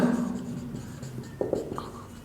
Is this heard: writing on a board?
yes